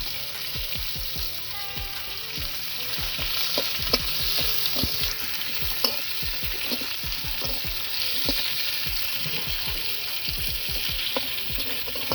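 Onion paste fries in a pan with a constant loud sizzle, punctuated by frequent soft scraping and stirring ticks throughout, close up and without speech.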